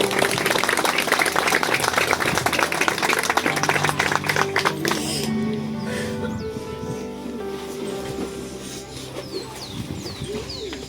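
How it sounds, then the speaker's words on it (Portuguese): A church congregation at a baptism service applauds in a dense, sustained wash of clapping that then stops abruptly. Soft bird cooing and chirps continue in the quieter room afterward. "Uma salva de palmas para Jesus Cristo."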